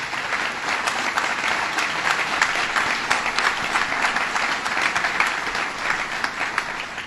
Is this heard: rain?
no